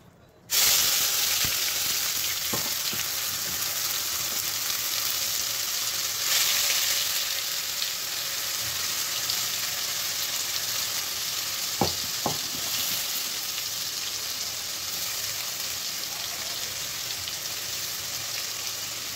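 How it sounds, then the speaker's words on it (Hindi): Onion paste hits hot oil in a pan and fries with a loud, steady sizzling hiss that starts abruptly and carries on unbroken, with a few faint clinks of stirring, close and with no talk. "ऑयल गरम हो चुका है और जो मैंने प्याज का पेस्ट तैयार किया था वो इसमें डाल देंगे।"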